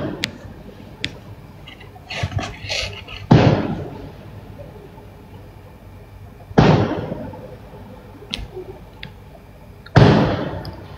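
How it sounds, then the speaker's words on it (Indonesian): Firecrackers go off in the distance on the night of Eid al-Fitr eve (Takbiran), with three sharp loud bangs and several smaller pops echoing in the night air. "Wih, mercon tuh."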